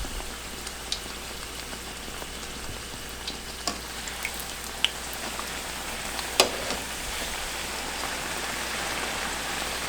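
Belizean fry jack dough fries in a pan over medium heat, giving a steady soft crackle and hiss with a few louder pops scattered throughout.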